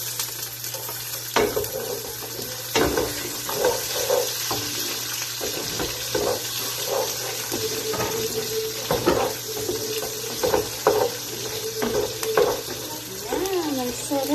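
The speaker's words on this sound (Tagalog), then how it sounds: "Tapos, isusunod natin yung sibuyas." Onions sautéing in a home kitchen frying pan, a steady low sizzle running throughout with scattered clinks and stirring scrapes, close and moderately loud, and a few brief vocal sounds near the end.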